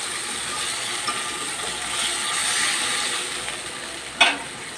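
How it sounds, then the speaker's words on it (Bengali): Fried onions sizzle in a pan after a splash of water, a soft steady hiss with a brief clink of a utensil near the end, close and alone. "পেঁয়াজগুলো ভাজা হয়ে গেছে"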